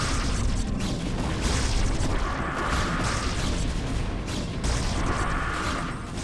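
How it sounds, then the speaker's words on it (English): Psionic Storm spell crackling across a StarCraft: Brood War battle, a loud, continuous electric roar with rumbling booms and two swelling bright hisses, mixed with dense combat noise and no talk. "That there is your Psionic Storm."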